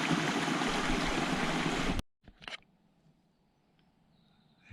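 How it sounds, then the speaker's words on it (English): A creek rushes loudly and steadily for about two seconds on a mountain trail, then cuts off abruptly, leaving only faint rustles and quiet ambience. "I gotta get away from this creek."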